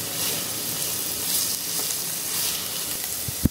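Long-sliced onion sautéing in a pan for a South Indian chicken dish, a steady close hiss of frying with a couple of sharp utensil knocks near the end.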